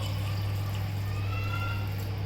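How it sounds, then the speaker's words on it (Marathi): Water poured into a pot of peas while cooking ragda plays as a soft, continuous trickle over a steady low electrical hum, with no talk. "पाणी घालायचं"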